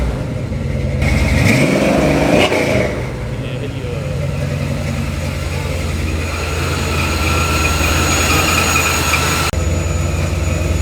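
A 1933 blown coupe hot rod with a carburetor revs up, a loud rising engine roar that swells and falls back to a steady heavy rumble, with people talking faintly underneath.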